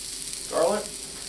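Garlic frying in extra virgin olive oil, a brief soft sizzle rising for a moment over quiet background.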